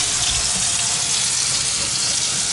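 A kitchen faucet runs hot water with strong pressure, making a loud, constant hiss of splashing water that continues without a break throughout.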